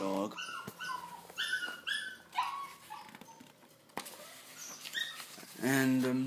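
A dog whimpers and whines indoors in a home bedroom, high thin cries coming in short bursts and a longer plaintive whine at the end, fairly close and soft, with a person speaking briefly.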